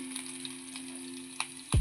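Green chillies and cumin seeds drop into hot oil, with a faint crackle that swells into a sudden close sizzle near the end.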